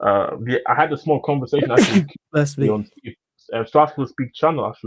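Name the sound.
sneeze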